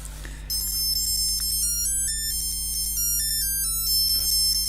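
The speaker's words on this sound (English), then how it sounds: "Oh, yes. William Tell Overture." An electronic calculator plays the William Tell Overture as a thin, beeping melody of stepped electronic tones, starting after a brief rustle and running steadily and clearly over a faint low hum.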